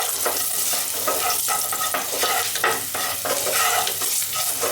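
Turmeric and spices stirred in a hot pan for Indian poha, a steady sizzling fry with scraping spoon strokes running throughout, close and fairly loud, no voices.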